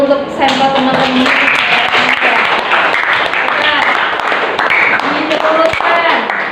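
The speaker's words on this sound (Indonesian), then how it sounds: "tepuk tangan dulu untuk sampel teman-teman" Students in a junior high school classroom clapping together in a steady burst of applause, close and fairly loud, with some voices mixed in throughout.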